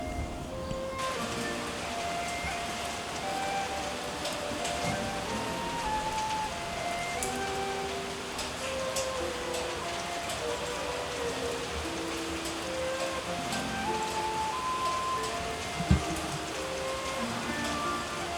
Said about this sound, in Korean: 다오야, 비 오는 거 오랜만이지?